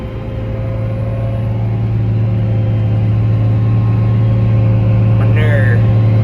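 A tractor on auto steer, spreading manure across a field, drones in a steady, loud low engine hum that runs without a break, with a brief high squeak near the end.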